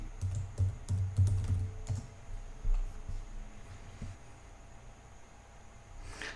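Password being typed on a computer keyboard at a desktop, a quick burst of close key clicks and taps that slows into a few scattered presses, fairly quiet with no talking.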